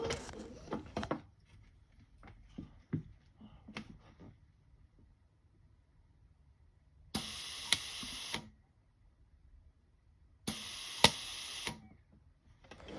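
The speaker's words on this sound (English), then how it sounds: "I hope you could hear the kind of loud puffs of argon gas on the video." Two loud bursts of argon gas hiss from a welder, each lasting about a second, separated by a short pause, with faint clicks and taps earlier on.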